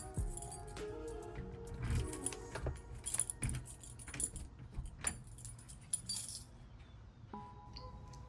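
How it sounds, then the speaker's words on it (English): A regular key unlocking a door from outside on a smart lock setup: keys jangle and clink, followed by scraping and metallic clicks of the key in the lock, close and quiet. "First, I'm gonna show you the regular key from the outside."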